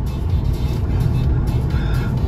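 A Polonez car driving on the road, heard as a steady, close rumble of engine and tyre noise with no talking.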